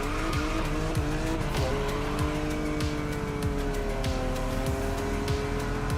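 A Porsche 911 races in The Crew Motorfest, its engine revving loudly and continuously through repeated rapid gear shifts, with tire squeal, steady and close throughout.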